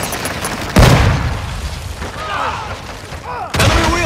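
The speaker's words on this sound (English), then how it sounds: "Grenade off!" In Call of Duty: Modern Warfare II, two grenade explosions go off as sharp, loud booms a few seconds apart, over steady battlefield noise and distant bursts.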